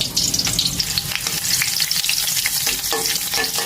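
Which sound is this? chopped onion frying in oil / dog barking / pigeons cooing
chopped onion frying in oil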